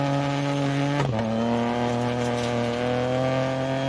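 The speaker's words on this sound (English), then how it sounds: "There seems to be an engine trouble. I think so too. Yeah, it doesn't sound well." A rally car engine in a racing video game runs rough and strained at a steady drone, its pitch dropping sharply once and then holding a lower, uneven tone.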